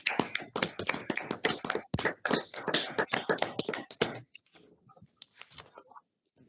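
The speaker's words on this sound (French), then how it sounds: "On t'applaudit." People at a municipal council session in Gerpinnes clap briefly after a swearing-in: a few seconds of close, sparse, uneven handclaps that stop abruptly, leaving faint scattered taps and near silence.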